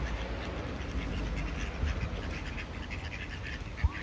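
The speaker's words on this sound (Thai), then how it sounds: "มาแล้วเป็ดมาแล้ว" Ducks quack in a dense, continuous clamor over steady background noise, many birds calling at once at moderate volume.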